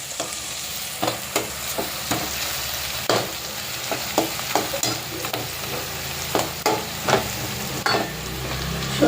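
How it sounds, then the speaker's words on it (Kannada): Onion frying with ginger garlic paste in a pan for chole masala, a steady sizzle broken by repeated scraping stirs at irregular intervals, close and fairly loud, with no talking. "ಸ್ವಲ್ಪ ಫ್ರೈ ಆದಮೇಲೆ ಶುಂಠಿ ಬೆಳ್ಳುಳ್ಳಿ ಪೇಸ್ಟ್ ಹಾಕ್ಕೊಳ್ಳೋಣ."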